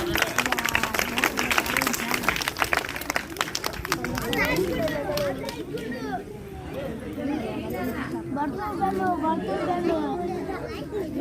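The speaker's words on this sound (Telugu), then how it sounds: "గట్టిగా చప్పట్లు కొట్టండి." Children and adults clapping at a school Independence Day celebration, a loud burst of applause fading into lively chatter and children's voices.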